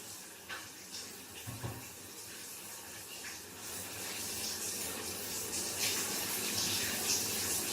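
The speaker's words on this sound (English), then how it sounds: "and turned on the hot water" Hot water runs steadily in a cabin shower, a continuous hiss and splash that starts softer and grows fuller. A few faint knocks come near the start, and no one speaks.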